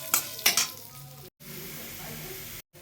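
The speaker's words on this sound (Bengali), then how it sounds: "কড়াইতে আমি তেলটা দিয়ে দিয়েছি এবং গোবিন্দভোগ চালটা দিয়ে দেবো ভাজার জন্যে।" Gobindobhog rice frying in oil in a wok makes a soft, even sizzle, with two louder stirring scrapes at the start and short gaps of silence.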